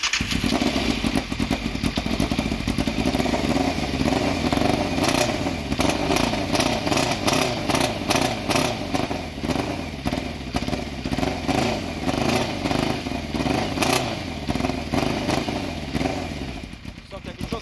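A Yamaha FZR 600 motorcycle engine idles roughly and unevenly up close, with a steady loud rumble, clattering mechanical noise and occasional irregular revs as it struggles after starting.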